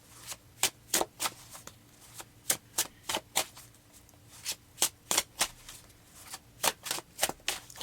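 Tarot cards being shuffled by hand, a brisk run of crisp riffling snaps repeating in irregular bursts, close and clear with no talking.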